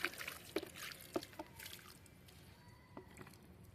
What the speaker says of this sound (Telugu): వాటర్ పోస్తాం.